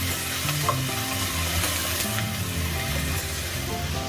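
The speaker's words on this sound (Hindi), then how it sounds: "अब ऑयल में मैं लहसुन अदरक डाल दूँगी। इसको हल्का फ्राई कर लेंगे।" Garlic and ginger frying in hot oil for a restaurant-style Memoni khausa, a dense continuous sizzle with stirring sounds throughout, close and fairly loud, with no voices.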